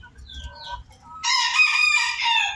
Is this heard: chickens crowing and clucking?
yes